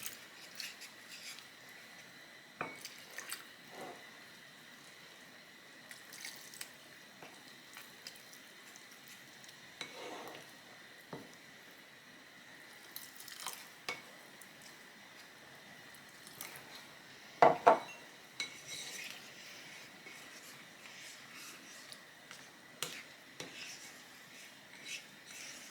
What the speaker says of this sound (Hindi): और इसको हिलाते जाएंगे।